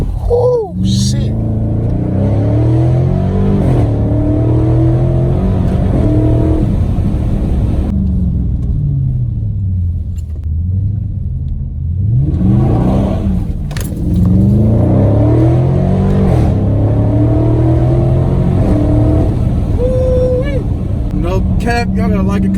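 A 2020 Dodge Challenger 392 Scat Pack in sport mode with no traction, its V8 engine roaring loud and close through repeated revving launches and wheelspin, with a short dip between bursts.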